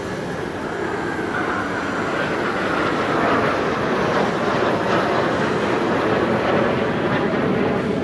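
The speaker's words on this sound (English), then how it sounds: "what a great sales tool the Black Eagles are, completing their display now with the victory break." Black Eagles jets completing a victory break at the LIMA Langkawi 2023 airshow, a steady, loud broadband jet roar that swells slightly midway and holds for the full stretch, with no voices.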